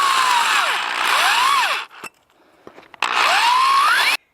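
A power tool drives heavy bolts into a horse fence gate: two loud whirring bursts that rise and fall in pitch, separated by a short quiet gap with faint handling noises.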